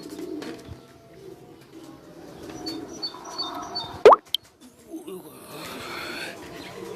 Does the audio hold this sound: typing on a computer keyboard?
no